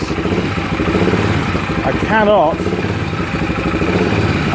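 A Yamaha Grizzly 450 4x4 ATV with flood water damage runs at a throbbing idle, rises in one brief rev and settles back, loud and close, with someone speaking over the engine.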